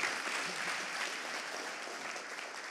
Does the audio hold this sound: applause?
yes